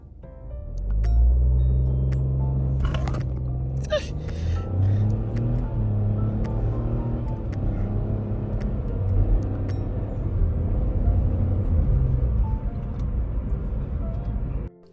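A Ford Fiesta with a 1.0 EcoBoost engine launches from a standstill and accelerates, its engine swelling into a loud, sustained rumbling drone heard from inside the car for about fifteen seconds before it cuts off.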